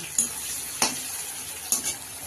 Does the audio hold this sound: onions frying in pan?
yes